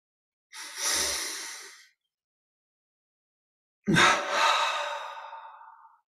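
Two deep breath sounds during a guided meditation relaxation exercise: a soft airy breath, a pause of silence, then a fuller, louder exhale that trails off slowly, close and alone.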